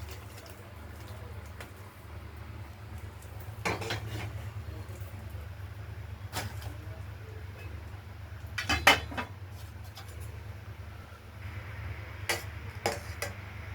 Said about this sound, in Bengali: মাছটা রান্না হয়ে গেছে, ঝেড়ে ফেলছি। আমরা এবার ঝেড়ে ফেলছি। থালায় নামিয়ে ফেলব।